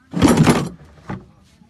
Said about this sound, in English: Shut the drawer.